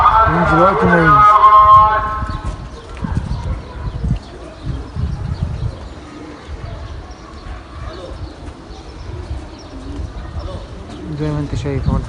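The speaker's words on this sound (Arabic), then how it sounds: "زي ما انت شايف اهو الحمام بيتطرح" Racing pigeons released outdoors coo and call loudly at first, with wingbeats and rustling, then fade into a busier background of movement and scattered noise; no clear talk is heard.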